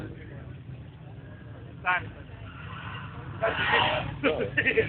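BMW E30 race car fitted with an M5 engine pulling away at the start of its lap, engine noise building and surging under steady commentary, with rising mechanical roar and possible tire noise toward the end.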